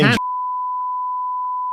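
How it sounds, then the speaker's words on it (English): A single steady censor bleep tone holds for nearly two seconds, loud and clean, right after a brief burst of speech that it cuts off. "you have to beep it out"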